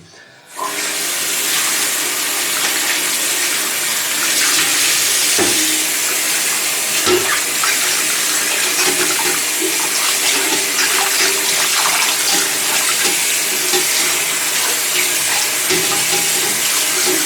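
Water runs steadily from a tap over a cymbal, rinsing off soap, for the whole stretch, a loud continuous splashing rush with a few faint knocks beneath it.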